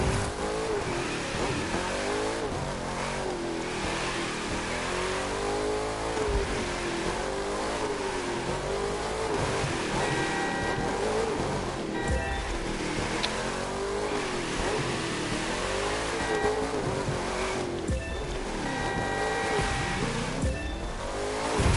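Ford GT racing through tight city turns in The Crew 2, its engine droning and revving continuously with shifting pitch and occasional tire squeal, loud and close with no talk.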